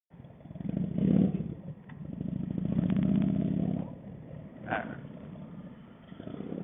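A 2017 Yamaha R6 sport motorcycle being ridden on its first ride, its engine rising and falling through a couple of revving surges with mid-range rumble, heard fairly close and somewhat muffled.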